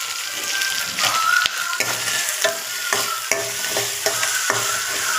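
Pumpkin charu frying in a pan, a steady close sizzle broken by repeated scraping stirs of a spoon against the pan, with no talking.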